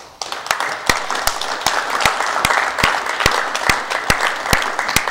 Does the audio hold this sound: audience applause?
yes